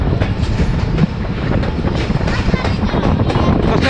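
The Thall Express train rolls into Mianwali railway station with loud, continuous clickety-clack of wheels over rail joints and steady rumbling from close by.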